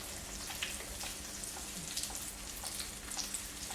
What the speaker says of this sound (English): now we're going to fry them up